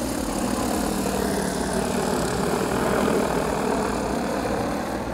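A DJI FlyCart 30 cargo drone spinning up its motors, a steady, dense whirring drone that holds level and loud throughout, with a broad rotor hum and no talking.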